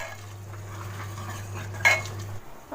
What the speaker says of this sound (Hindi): बस अब इसको मसाले को अच्छे तरीके से भूनना है।